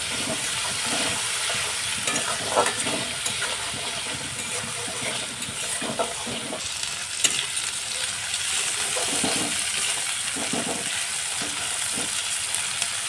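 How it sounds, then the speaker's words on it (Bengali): Spice paste with Kashmiri chilli powder and turmeric powder frying in oil, a steady dense sizzle with occasional scraping and stirring clinks, close and continuous with no talking. "তারপরে কাশ্মীরি লঙ্কার গুঁড়ো দিয়ে দিলাম হলুদ গুঁড়ো দিলাম দিয়ে আবার আমি মশলাটাকে সুন্দরভাবে কষিয়ে নিলাম"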